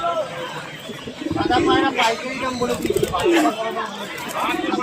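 Madras pigeon squabs coo in low, throaty bursts amid a busy crowd at a Kolkata bird market, with chatter and other voices mixing in close by.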